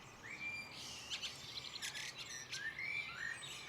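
A nutcracker calls in a coniferous forest, giving bright chirps and tweets in a loose, irregular series over about four seconds, fairly faint but clear against quiet forest ambience.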